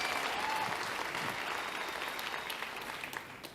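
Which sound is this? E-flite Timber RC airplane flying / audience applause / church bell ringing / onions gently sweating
audience applause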